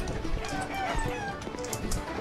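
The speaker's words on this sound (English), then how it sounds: "Step right up and see the chicken here." Chicken clucks and crowing-like calls from the video game Chicken Overrun, steady and moderately close over a busy game soundscape, with a voice talking intermittently.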